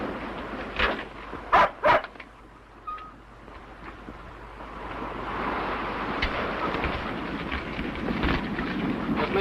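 Police dogs bark in a radio drama set on a cape by the ocean, a few sharp barks early on over a steady, windy outdoor rush that swells and continues to the end.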